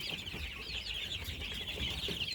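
Naked neck chickens clucking steadily over a constant busy background of farmyard noise, many birds at once, close and fairly loud, no talking.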